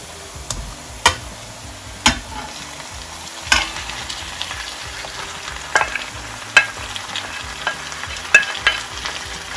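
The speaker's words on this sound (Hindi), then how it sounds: "प्याज और लहसुन अदरक के साथ कीमे को अच्छे तरीके से भून लेना।" Minced meat fries with onion, garlic and ginger in a pan, a steady sizzle punctuated by sharp spatula scrapes and clacks every second or so, close and fairly loud.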